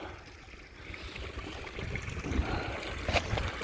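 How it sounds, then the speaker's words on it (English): A small waterfall on a homestead property running after heavy rain, a continuous rushing and trickling flow of water heard close up, swelling slightly louder toward the end with no voices. "I finally got enough rain and I got a waterfall."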